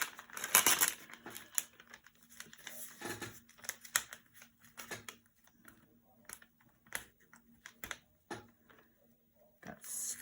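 Decorative tape torn and handled for an art journal, with soft crinkles, quick rips and scattered tapping at close range, quiet and intermittent.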